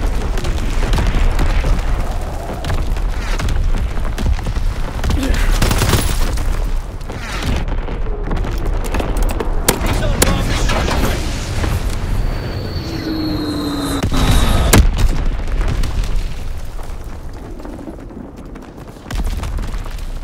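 Artillery battery firing in Call of Duty WW2 multiplayer, with booming explosions and gunfire-like blasts layered densely over a loud, continuous battlefield din for the full stretch.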